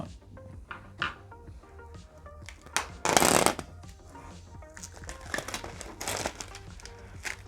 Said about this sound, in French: On enlève le plastique.